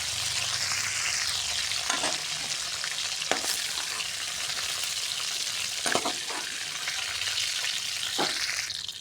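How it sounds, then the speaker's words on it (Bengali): A fish head fries in hot oil in a wok, giving a continuous loud sizzle with occasional sharp scrapes and clinks of a spatula stirring, no voices present. "কড়াইতে তেল গরম হয়ে গেছে, এখন ছেড়ে দেবো মাথা"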